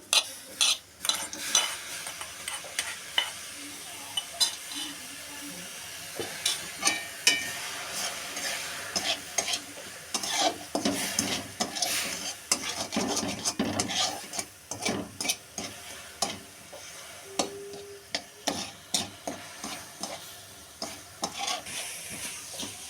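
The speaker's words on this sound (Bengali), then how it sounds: "এবার আমি এই পেঁপের টুকরোগুলো সব দিয়ে দিচ্ছি।" Papaya pieces tipped into a hot pan for a homemade cake, followed by steady stirring with clinks of a utensil against the pan over a soft continuous sizzle, with no talking.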